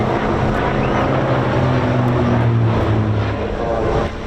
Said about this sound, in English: beautiful sounds from the Bristol Centaurus 18 cylinder air-cooled radial piston engine